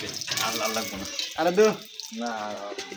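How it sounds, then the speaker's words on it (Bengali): Water gushes from a hand-pumped tubewell that is being worked without its handle, a splashing flow heard under a person talking close by. "কলের ডান্ডি ছাড়া কিভাবে কলে পাম ওঠানো যায়"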